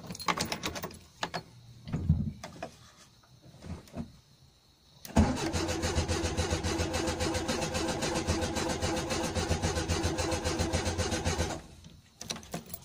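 A car's starter cranks the engine after the cooling system is refilled: a few short knocks and clicks first, then a long, steady, loud churning crank lasting about six seconds before it stops.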